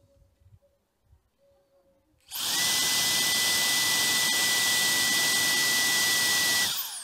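After a quiet moment, a compact turbo blower spins up abruptly into a loud, shrill whine with rushing air, holding steady before cutting off.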